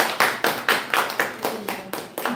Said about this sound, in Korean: 우리 사회를 잘 봐주신 우리 이명미 권사님 격려의 박수 한번.